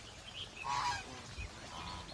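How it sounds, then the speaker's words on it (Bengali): Geese at a pond beside a homestay in Sikkim give faint, distant honks, one brief call standing out briefly over low outdoor background noise. "দেখুন কত হাঁস, রাজহাঁস"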